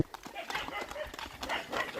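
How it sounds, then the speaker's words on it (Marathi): Quick, rhythmic horse hoofbeats clatter at a rural bullock-cart race, close and lively, with voices talking in the background. "बघा नुसते घोड्याच्या टापा"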